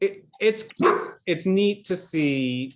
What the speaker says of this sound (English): Sorry, that's the dog.